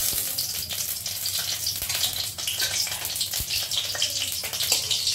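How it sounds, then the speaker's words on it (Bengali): Nigella seeds dropped into hot oil in a pan crackle and sizzle in a steady, bright hiss with small pops, close and loud, no voices. "তেল দিয়ে দিলাম, দিয়ে এই যে কালো জিরে দিয়ে দিচ্ছি"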